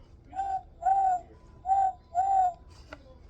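A person imitates an owl with four soft, evenly spaced hooting notes, each a sustained tonal 'hoo', followed by a brief faint click, in a quiet room.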